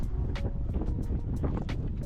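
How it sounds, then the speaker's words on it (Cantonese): Strong wind in Edinburgh buffets the microphone in a continuous low roar, with gusty bursts rising and falling throughout and no clear voices. "大風到我企唔穩咯，我唔係講笑，係真係俾風吹喐咗地下。"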